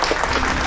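Studio audience applause on a Bengali family quiz game show after a correct answer, a dense, steady clatter of clapping filling the whole short moment without pause.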